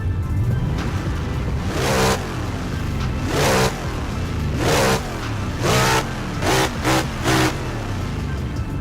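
V8 turbo car engine in the racing game Assetto Corsa revving hard while drifting, loud and continuous with repeated sharp throttle blips and rising, falling revs throughout.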